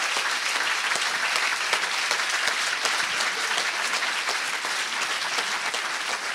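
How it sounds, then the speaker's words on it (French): An audience applauds the prize winners at a local university science-communication finale in Lyon, a continuous, bright, dense clatter of many hands at an even level throughout. "je vous demande encore d'applaudir tous nos lauréats"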